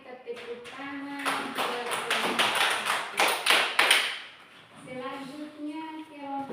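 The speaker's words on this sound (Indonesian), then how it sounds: "mari kita tepuk tangan" A classroom of pupils breaks into a burst of hand clapping lasting several seconds, dense and fairly close, with voices of children and a teacher heard before and after it.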